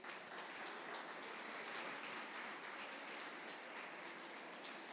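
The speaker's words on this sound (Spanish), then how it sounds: "¿Por qué no le da un aplauso al Señor?" A church congregation applauds in unison after the pastor calls for it, a dense, even wash of clapping that holds steady and fairly faint for the whole stretch, with no voices over it.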